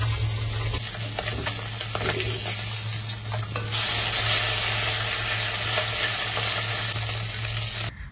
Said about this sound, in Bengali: একদম আজকে তাজা তাজা মাছ ভাজা খাওয়া হবে